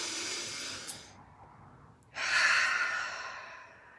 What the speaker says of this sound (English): Take a deep inhale and exhale down to the heart.